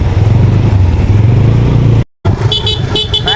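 A car pushing through a deep, fast-flowing river crossing, its engine straining under a steady loud rumble and splashing water, with a brief cut midway and a horn sounding near the end.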